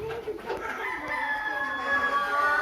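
A rooster crows inside a coop where parent-stock country chickens are kept: one long, drawn-out call that swells and holds close and loud to the end, with softer clucks and shuffling beneath it.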